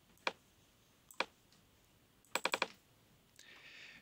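Computer keyboard keys pressed in a quiet room: a few isolated single clicks, then a quick burst of four keystrokes, close and crisp.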